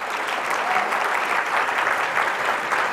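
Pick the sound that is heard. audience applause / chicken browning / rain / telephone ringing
audience applause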